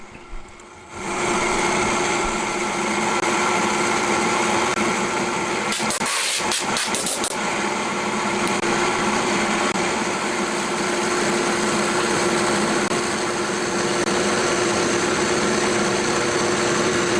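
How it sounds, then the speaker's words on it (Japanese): A home lathe steadily machining a homemade DOHC camshaft main shaft down to 16 mm, giving a continuous, fairly loud motor whine and cutting drone with a brief rattling burst midway. "ここの目標は 16mm なので 16mm になるまで削っていきます。"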